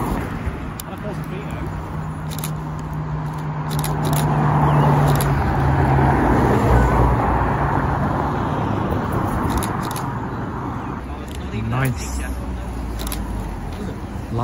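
A Lancia Delta drives past at a supercar gathering in Alderley Edge, its engine and road noise swelling to a broad, steady rumble midway and then easing off, with people talking over the street bustle.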